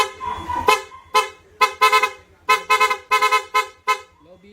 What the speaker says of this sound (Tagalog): Testing ulit ako ng PIA horn.